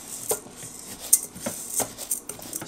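Rice is stirred with oil in the pot of an Instant Zest rice and grain cooker, producing light clinks and scrapes at an irregular pace, close and clear with no voices.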